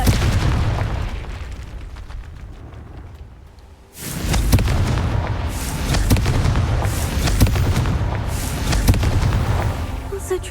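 Repeated booming fire-blast spell explosions from the Confringo spell in the video game Hogwarts Legacy, loud and dense with a sudden break near the four-second mark, overlapping bursts and rumbling impacts continuing throughout.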